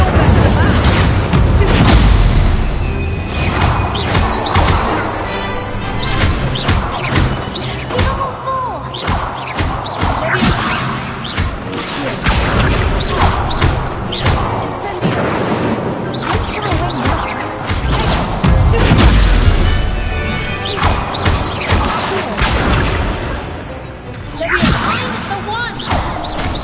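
Incendio spell blasts crackling and booming during a dueling match in Hogwarts Legacy, dense rapid whooshes, cracks and impacts layered over game music, loud and continuous throughout.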